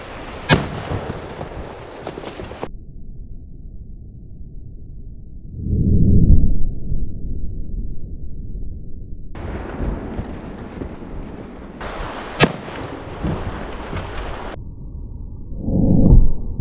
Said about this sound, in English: I'm gonna hit this with a 458 Socom hollow point, 350 grain.